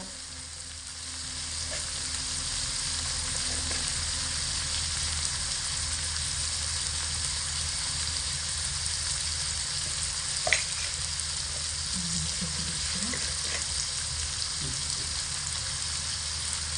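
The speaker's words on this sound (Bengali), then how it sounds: "আলুগুলোকে লাল লাল করে ভেজে নিয়েছি" Potatoes fry in a pan with salt and turmeric for a ghugni with green peas, a loud even sizzle running throughout, with a few faint stirring taps and no voices.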